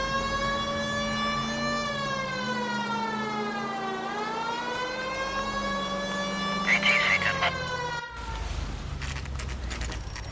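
A police car siren in the game L.A. Noire sweeps down and back up in a steady tone, loud and continuous, with engine rumble beneath and a brief clatter near the end.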